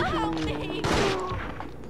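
Gunfire in the PlayStation 2 game Resident Evil Outbreak, a single sharp shot bursting out midway over game music and ambience, with a voice talking around it.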